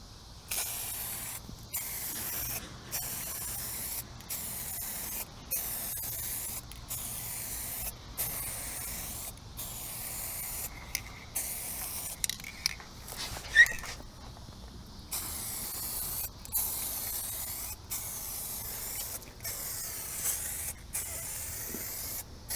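UV protectant sealant hisses from an aerosol can onto Jeep Grand Cherokee WJ headlights in repeated short bursts, a soft close spray with brief gaps and faint handling clicks between passes.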